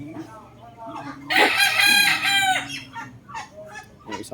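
A Boston round head rooster crows once, loud and close, a drawn-out harmonic call over low background noise and faint scattered sounds.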